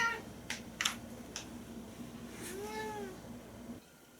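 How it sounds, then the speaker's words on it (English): Cat meowing faintly indoors, a drawn-out wavering meow in the middle after a few short clicks, under low background hum. "Could you please stop meowing so much?"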